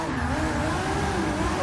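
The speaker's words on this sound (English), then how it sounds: "Nothing but tire spin, and I absolutely love it." An R32 Skyline's tires spinning in Forza 6, heard as a steady, loud, close engine roar mixed with continuous tire noise that holds for a couple of seconds without a break.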